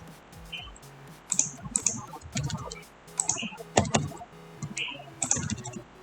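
Fingers tap on a computer keyboard to comment out a line of code, giving irregular clusters of light clicks and key presses up close, with a faint voice underneath at moments.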